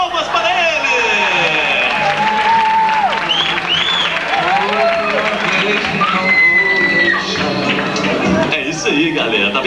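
A studio audience at a 1996 Brazilian television variety show claps and cheers loudly and continuously for nearly ten seconds, with whistles and shouting voices rising over the dense, roaring applause.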